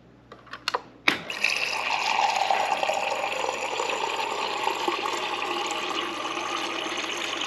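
Water rushes steadily through the dispenser of an LG refrigerator while air is flushed out after a new filter is installed. A few sharp clicks come first, then a continuous hissing flow runs to the end.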